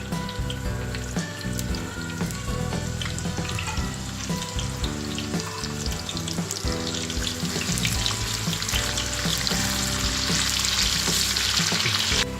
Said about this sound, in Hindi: फ्राई पैन में मैंने 1 कप ऑयल डाला है। इसमें 1 प्याज डाल के फ्राई करना है।